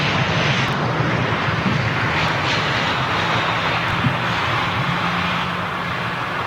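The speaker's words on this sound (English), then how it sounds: "Did you hear that, folks? Can you hear it? GE90's firing up." A GE90 jet engine on an airliner spools up at an airport, a loud, steady roar with broad hiss filling the whole stretch, no voices over it.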